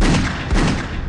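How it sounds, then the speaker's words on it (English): Loud, dense bursts of movie gunfire from a police shootout fill a brief action moment, with booming low-end impact and no audible speech. "I returned fire"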